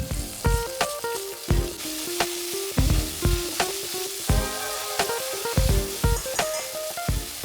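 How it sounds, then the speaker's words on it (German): Anchovies frying briefly in a pan for puttanesca, with a crackling sizzle punctuated by regular, loud scrapes of a spatula stirring them, close and without talk. "Dann gebe ich die Sardellen hinzu und röste sie kurz mit an."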